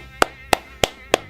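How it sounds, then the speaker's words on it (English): Four single hand claps, evenly spaced and sharp, close and fairly loud, each a quick isolated crack with quiet between. "I don't want to clap there. That sounds really bad"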